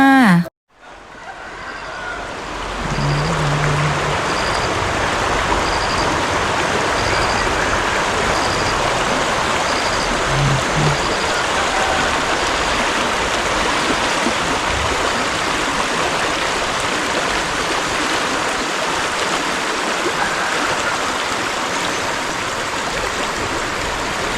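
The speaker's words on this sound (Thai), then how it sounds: "ทานอาหารเช้าไปฟังเสียงน้ำไหลไปฟินมากๆเลยค่ะ" Steady broadband rush of a stream flowing through a mountain village at Sapan in Nan province, continuous and fairly loud throughout, with faint intermittent chirps above the water.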